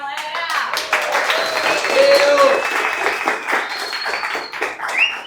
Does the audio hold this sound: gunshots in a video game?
no